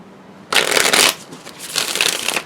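Two bursts of tarot card shuffling, close and loud, the first brisk riffle followed by a second longer shuffle after a short pause.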